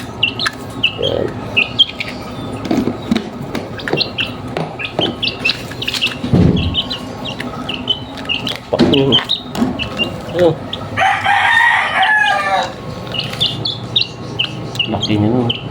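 A young chicken, once a small chick and now tame, peeps and chirps repeatedly in bursts alongside some clucking from nearby chickens, close up, with people talking intermittently over the calls.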